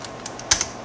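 A few quick keystrokes click on a computer keyboard up close, with a sharper tap just past the halfway point, in a quiet room.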